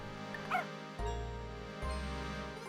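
A dog in the Professor Layton video game gives a short yip and a couple of soft bark-like bursts over a steady game music bed, moderately quiet with no talk.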